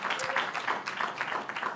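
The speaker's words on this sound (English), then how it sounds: "A warm round of applause for Blessing Oduni." Warm applause from a conference audience at a book launch, a moderate wash of clapping hands with some voices mixed in beneath it.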